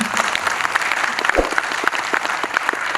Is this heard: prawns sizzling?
no